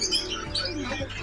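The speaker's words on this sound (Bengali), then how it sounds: "এই যে পাখির একটা দোকান, পাখি নিয়ে আসছে, এই যে ছোটো ছোটো পাখি" Small caged birds chirping at a weekly outdoor market bird stall in Portugal, several quick high tweets and chirps close by over low market background noise.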